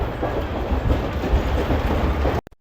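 A Safari passenger train runs on the rails between Rawalpindi and Attock in Pakistan, a loud continuous rumble and rattle of wheels and carriages heard from on board, cutting off abruptly near the end.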